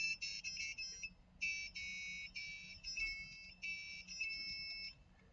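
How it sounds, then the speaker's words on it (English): A small electronic buzzer on a coding kit beeps out the Star Wars theme as a string of shrill, clean tones, phrase by phrase, with short pauses between. "so I can hear the theme song of Star Wars"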